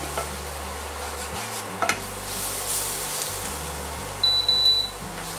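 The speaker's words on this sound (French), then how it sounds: "on met la farine, et c'est maintenant qu'on va faire le roux" Flour being stirred into a roux in a pan, a soft steady sizzle with scraping strokes, a brief knock partway through and a faint thin beep near the end.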